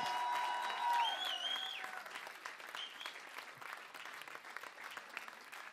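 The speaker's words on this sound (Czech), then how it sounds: "Ale zatleskejte ještě jednou" A live hard-pop concert audience claps steadily for several seconds, dense broadband applause that is loudest at the start and then eases slightly while continuing throughout.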